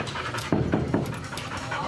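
A working guide dog pants close by in quick, rhythmic breaths, a few louder huffs standing out over the short stretch.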